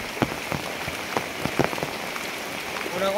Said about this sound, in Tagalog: Kay ulan namang gyud, kusog kayo ang ulan